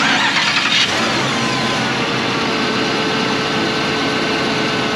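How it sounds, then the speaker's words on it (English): A 5.3 V8 engine in a 2007 Chevrolet Monte Carlo SS cranks briefly, then catches and settles into a loud, steady running rumble close by. "Begin engine starting sequence now."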